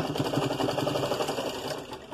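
A sewing machine runs continuously while stitching a line along the back neck of a blouse, a steady close whirring chatter of rapid needle strokes with no voices.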